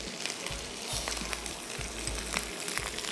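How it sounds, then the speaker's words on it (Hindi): Vegetable pulao with turmeric fries in a pan, giving a steady close sizzle with faint stirring under it. "ये गई हल्दी। हल्दी के साथ थोड़ा सा फ्राई करेंगे इसको।"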